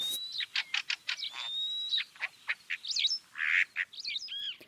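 Birds chirping in spring: a busy, close run of sharp tweets, whistles and trills in quick bursts, loud and alone with no voices.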